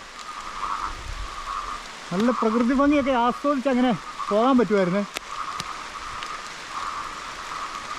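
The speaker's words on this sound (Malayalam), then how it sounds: "മഴ ഇങ്ങനെ പെയ്തുകൊണ്ടിരിക്കുക നമ്മൾ എങ്ങനെ പോകാനാണ്" Steady hiss of rain falling all around, with a person talking over it for a few seconds in the middle.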